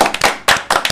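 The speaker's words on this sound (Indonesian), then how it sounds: "tepuk tangan dulu sih" Podcast hosts and guests clap in a few sharp, loud bursts close by, with short gaps between the bursts.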